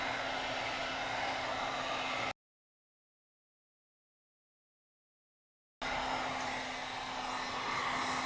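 A heat gun blows hot air onto a BMW R90/6 final drive housing, a steady close whooshing hum with a faint tonal whine that runs, cuts out to silence for a few seconds, then resumes.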